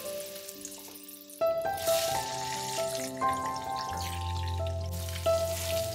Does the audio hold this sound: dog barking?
no